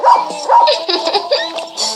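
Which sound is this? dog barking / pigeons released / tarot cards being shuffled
dog barking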